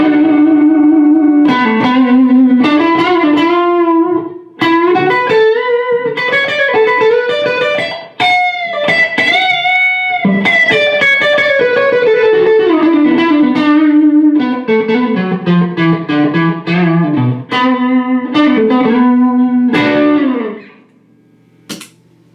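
Electric guitar through a stereo rig with distortion dialed in for a rockabilly tone, playing loud twangy melodic phrases with reverb and echo tails for about twenty seconds, ending in a fading ring.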